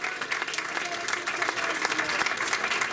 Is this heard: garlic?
no